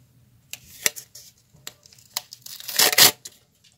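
A handmade paper surprise packet is tugged and torn open, with scattered crisp crinkles and taps building into a loud ripping tear near the end, close up.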